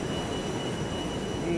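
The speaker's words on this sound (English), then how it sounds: "Planes." Fighter jets, F-15s, roar past in Garry's Mod during a battle with War of the Worlds tripods, a dense, steady jet-engine rumble filling the short stretch at constant loudness.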